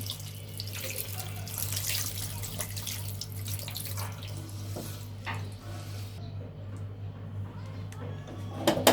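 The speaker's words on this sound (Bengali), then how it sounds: "এখন পানি দিয়ে দিব" Water runs steadily from a tap into a cooking pot for several seconds, a continuous splashing rush with a low steady hum beneath it.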